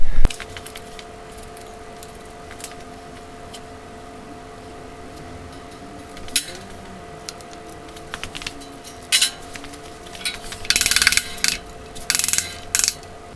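A ratchet clicks as it loosens the connecting rod cap bolts on a 2.3 turbo engine with rod knock, the dry ratcheting sounding in short bursts that grow louder and busier toward the end, with metallic clinks between them.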